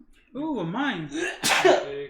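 A sneeze bursts out sharply and close during a casual board game stream, following spoken words with a wavering, sing-song tone.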